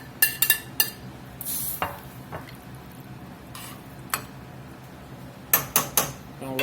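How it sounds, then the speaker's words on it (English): Browned beef stirred into beef broth in a pot, giving clinks and scrapes of a spoon against the pot in short bursts with quieter pauses between, close by and moderately loud with no talking. "We're going to put this browned beef in here."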